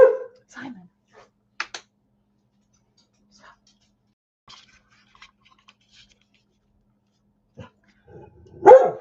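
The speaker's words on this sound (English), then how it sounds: "I hate making y'all listen to him bark" A dog barks close by in short, loud bursts, one at the start and a sharper flurry at the end, separated by long near-silent gaps with scattered faint clicks.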